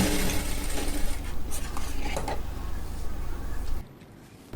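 An electric sewing machine runs steadily, stitching a double seam on an A-line kurti, a continuous close mechanical whir that cuts off abruptly near the end, with no talk over it.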